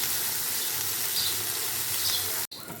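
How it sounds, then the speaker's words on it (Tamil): Fresh coriander leaves sauté in a hot pan with onion, giving a continuous broadband sizzle with soft hissing and steam, heard close and steady before cutting off abruptly near the end. "இப்போ மல்லி இலையை சேர்த்து நல்லா வதக்கிடலாம்."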